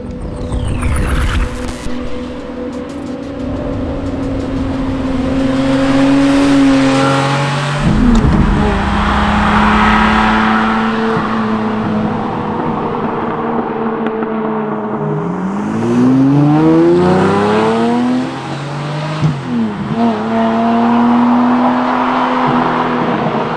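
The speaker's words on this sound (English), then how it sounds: "Under the hood is a longitudinally mid-mounted twin double overhead cam 48-valve 60-degree V12." A Lamborghini Murcielago with a mid-mounted 48-valve 60-degree V12 engine revving hard, its loud howl climbing and falling through several gear changes, with sweeping rises in pitch as it accelerates.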